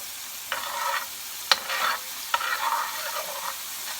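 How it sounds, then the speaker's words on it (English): Garlic sizzles softly in a pan as a utensil stirs it, several short scraping strokes with light sharp clinks against the pan over a faint, constant frying hiss. "So you add your garlic."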